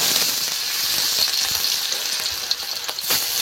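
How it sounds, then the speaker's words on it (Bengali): Fish frying in hot oil makes a steady, bright sizzle with small crackles and pops scattered through it. It is loud and close, with no voices. "তেল গরম হয়ে গিয়েছে, এবার কিন্তু মাছগুলো দিয়ে আস্তে আস্তে ভেজে নেব।"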